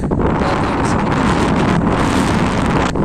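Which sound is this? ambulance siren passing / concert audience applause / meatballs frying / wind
wind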